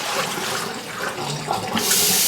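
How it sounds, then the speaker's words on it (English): Warm water sloshing and pouring inside a Breville tea maker glass carafe as it is rinsed and dumped out, a steady close splashing rush that swells at the end. "Just rinsing the insides out of our carafe, dumping it out"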